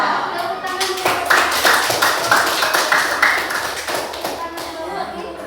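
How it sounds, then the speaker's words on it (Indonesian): Children in a classroom clap for group 3, a fairly close burst of rhythmic, slightly uneven hand claps with chatter underneath, tapering off toward the end. "Tepuk tangan untuk"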